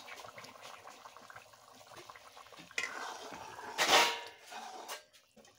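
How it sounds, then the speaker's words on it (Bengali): Lentil dumplings (dal bori) are dropped into a pot of boiling curry gravy, bringing a soft liquid bubbling and wet plops that swell to a louder splash near the middle before easing off. "ঝোলটা ফুটে গেছে, এখন আমি দিয়ে দিব ডালের বড়ি"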